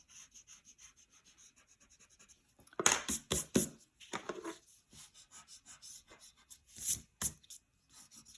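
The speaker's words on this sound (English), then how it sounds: "Let me use this eraser." Pencil eraser rubbing across paper while shading an egg drawing, a light rapid scrubbing that swells into louder, rougher strokes midway, then settles into soft repeated rubs, close and quiet with no voices.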